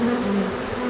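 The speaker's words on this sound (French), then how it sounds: "On voit que c'est des abeilles nouvelles parce qu'elles sont toutes" Newly installed honeybees hum around a freshly set-up hive on a warm day, a close, steady buzzing drone with no voices.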